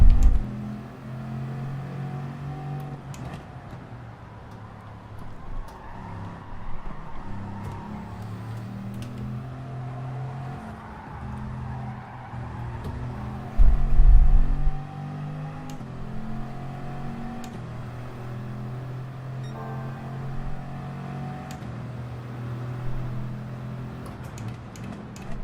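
Bugatti Veyron engine in Gran Turismo 7, a steady droning hum that rises and falls with throttle across the whole stretch, with a brief louder low thump midway.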